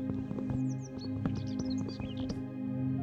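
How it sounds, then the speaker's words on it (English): Brightly colored parrots in the Minecraft video game chirp in quick, high, scattered bursts over a steady low drone, with several calls coming close together. "the chirping bird sounds get even closer"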